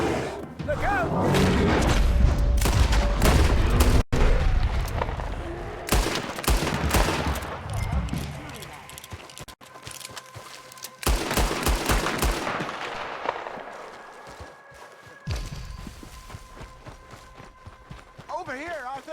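Repeated gunshots ring out in Red Dead Redemption 2 while a bear is being hunted, with sharp cracks clustered in volleys amid hoofbeat-like clatter and a busy game soundscape, loud and close throughout.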